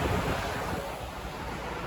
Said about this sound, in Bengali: ফ্যান চলতেছে